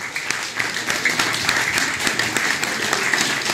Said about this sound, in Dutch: Een applaus graag.